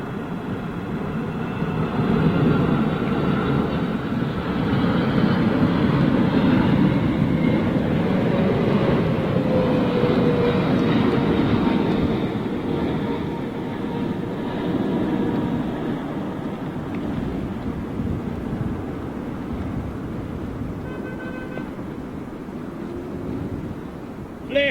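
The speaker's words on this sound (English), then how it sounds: "All Nippon Airways 777." An All Nippon Airways Boeing 777 at Heathrow Airport produces a broad, sustained jet roar that swells and slowly fades, heard from a distance with steady rumbling throughout.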